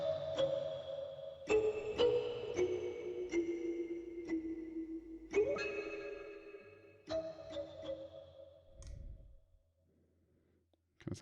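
Homemade horror instrument struck in a series of sharp metallic clangs, each ringing out with a long reverb tail and wavering tones, fading to near silence before a final hit.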